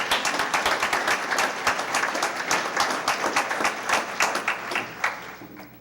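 A crowd at an evening volunteer-of-the-year recognition event applauds steadily, many hands clapping densely and evenly throughout, moderately close with no speech over it.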